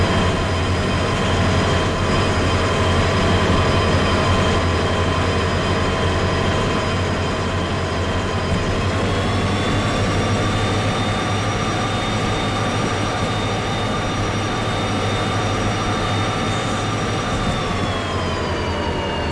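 A freight train in the Derail Valley video game rumbles steadily along the track, a continuous loud drone with sustained tonal whine that shifts pitch slightly partway through, heard alone without talk.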